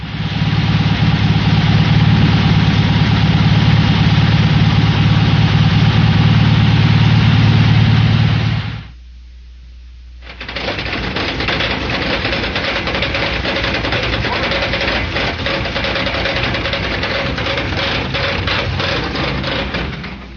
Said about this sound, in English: Normal engine, one with a broken crankshaft.